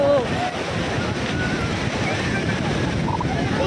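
Ocean waves wash onto the sandy beach at Jagannath Puri, a continuous surf rush with wind buffeting the microphone, while voices talk faintly over it.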